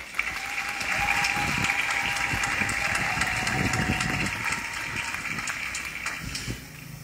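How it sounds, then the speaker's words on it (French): Sustained applause from a gathered congregation fills a newly blessed chapel of adoration, steady clapping honoring the religious sisters of Notre-Dame de la Paix, swelling then slowly tapering off. "je vous demande de m'aider à les féliciter en les applaudissant très fort"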